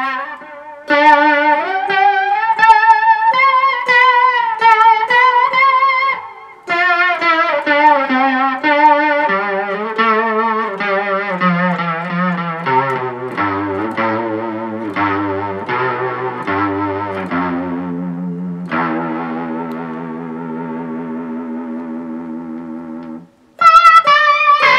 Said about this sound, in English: you combine that with the vibrato, and it just has this really weird effect that you might hear from like a science fiction type thing